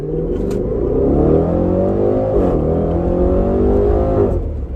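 A 2020 Range Rover Velar SVAutobiography Dynamic Edition accelerates on the road, its engine note rising steadily in pitch, easing briefly at a gear change, then climbing again. It is loud and continuous, with no talking.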